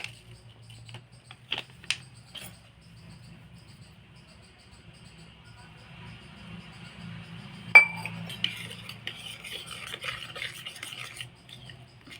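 Pasta masala being stirred into water with a spoon in a bowl, a few light clinks early on, then quiet rubbing and a run of scraping, tapping stirs near the end, soft and close with a faint low hum under it.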